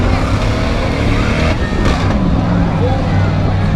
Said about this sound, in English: It's a Saturn from Mike, driven by Mike Mcneel out of Traverse City.